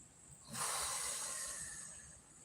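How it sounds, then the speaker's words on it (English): A single deep breath drawn in, a soft broad airy hiss that swells after a short pause, holds for about two seconds and then slowly fades, close and alone with no talking. "just take a deep breath"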